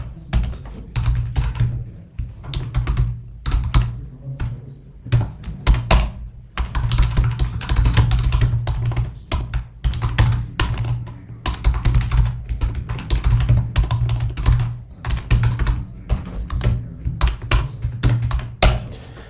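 Code being typed on a computer keyboard while writing a Java program, a long run of quick, close, clattering keystrokes in uneven bursts with brief pauses and no talking.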